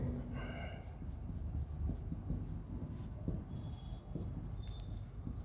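Pen or chalk writing a note during a polity class, a series of soft scratchy strokes and taps in a quiet room, with faint breathing and light background noise.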